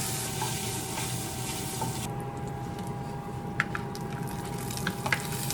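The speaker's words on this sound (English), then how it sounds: "And add in the andouille to be sauteed" Andouille sausage sautéing in a gumbo pot gives a steady, close broadband sizzle, with a few light clicks of stirring breaking through near the end. No voices.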